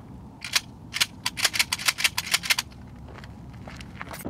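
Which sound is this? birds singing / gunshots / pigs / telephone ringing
gunshots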